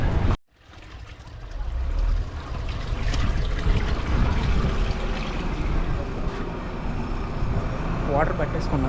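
Water trickles and splashes into a water bottle being filled at a cold mountain stream between Manali and Solang Valley, a steady close rushing wash running throughout after a brief pause at the start.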